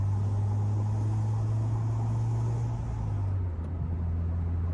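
A car engine running rich revs steadily with a loud, close low drone that shifts in pitch partway through, without any talk over it.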